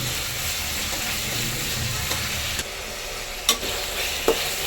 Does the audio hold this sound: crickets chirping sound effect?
no